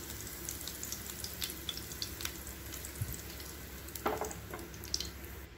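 Curry leaves dropped into hot oil for tempering an onion chutney, a soft continuous sizzle with scattered crackles and pops, including a brief louder burst.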